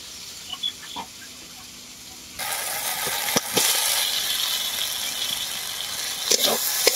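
Fried potatoes dropped into a spice paste cooked in oil: near-silence gives way to a sudden loud, sustained sizzle, with a few clinks from the pan.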